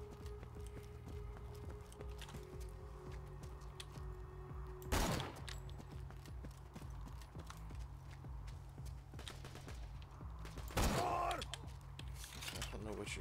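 Gunfire in the video game Borderlands 2, two sharp loud shots several seconds apart over a busy background of game sounds and mechanical clatter.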